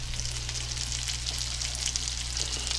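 Walleye fillets sizzle steadily in a pan at a lakeside cookout, a soft, even crackling hiss with no voices.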